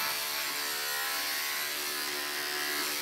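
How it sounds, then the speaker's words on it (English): Electric clippers trimming hair on a foal, a steady, close, high buzzing hum that runs unbroken throughout with no talk. "Switch it around so I can trim a little bit of hair here."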